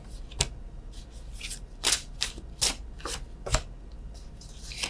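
A deck of tarot cards is shuffled by hand in a quiet room, giving a series of crisp, close riffling bursts at an uneven rhythm with short pauses between them.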